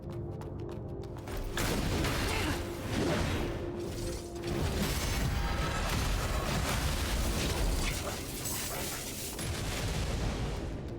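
Explosion in a video game: a dense, sustained rumbling blast with crackling bursts that roll on for several seconds, loud and close, with no speech over it.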